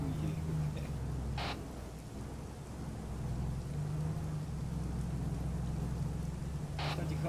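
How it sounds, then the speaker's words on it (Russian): Steady rain falling in the desert, pattering on surfaces, with a couple of brief louder splashes; no one speaks. "что в пустыне будет дождь"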